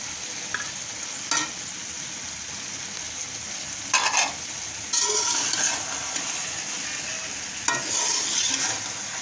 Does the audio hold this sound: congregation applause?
no